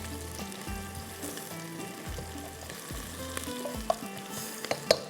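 Whole garam masala spices frying in a pan, a steady close sizzle with a low background hum, a few sharp utensil clinks near the end and no voices.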